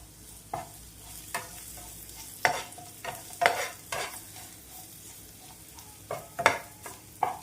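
Garlic, lentils and small onions fry with a pinch of turmeric in a pan for Andhra garlic-lentil spice powder, giving a low steady crackle broken by several sharp scraping stirs of a spoon.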